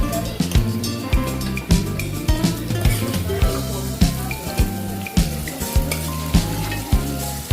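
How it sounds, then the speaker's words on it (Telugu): Marinated chicken frying in a pan for a spicy chicken curry, a loud steady sizzle broken by regular scraping stirs, with no talk. "అలా మొత్తం చికెన్ అందులో వేసుకొని బాగా కుక్ చేసుకోవాలి."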